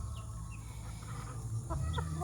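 A hen clucks softly in a dark shed, a few short low calls close by over a steady background hum.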